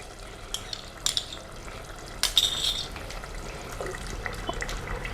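Yogurt being stirred briskly into a cooking masala in a pot for a vegetable qorma, with soft scraping and wet swishing sounds, a faint sizzle underneath, and a few louder clinks and scrapes.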